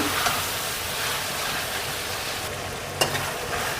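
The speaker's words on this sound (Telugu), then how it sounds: "ఇలా బాగా కలుపుకుంటూ మెత్తబడే వరకు అయితే మగ్గించుకోవాలి" Tomatoes cook in hot oil with salt and turmeric as a spoon stirs them, giving a steady, close sizzle with soft scraping and a sharper clack near the end, no voices.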